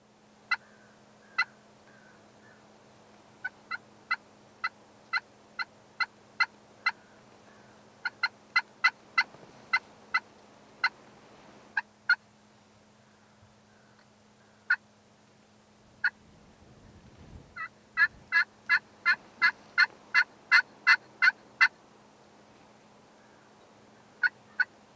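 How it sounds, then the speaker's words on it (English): Wild turkey gobblers gobble repeatedly from several spots, sharp rattling bursts in loose runs and clusters, some near and loud, others softer, over a quiet field setting with no talk. "He's got two sets of gobblers with hens in tow coming into his setup."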